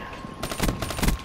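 Gunfire from a weapon in the shooter game Black Ops 3, a quick run of rapid, loud close-range shots lasting about a second.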